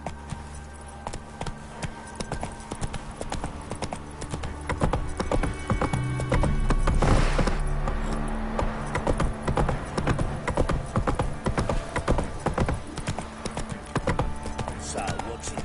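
Roach, Geralt's horse in The Witcher 3, trots along with a rhythmic clip-clop of hooves, and a neigh cuts through midway; game music and ambient sounds run beneath.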